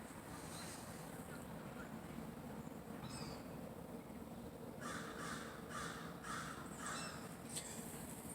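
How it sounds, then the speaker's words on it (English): Gulls call repeatedly overhead outdoors in a local area near water, several harsh squawks bunching together in the second half over steady wind and ambient noise. "There's seagulls flying right overhead over here in this area."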